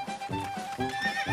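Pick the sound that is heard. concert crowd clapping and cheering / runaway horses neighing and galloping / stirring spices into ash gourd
runaway horses neighing and galloping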